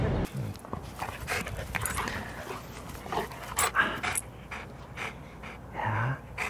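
A corgi puppy whimpers and pants close by indoors near a bed, with soft whines, quick breathy pants and rustling movement in uneven bursts.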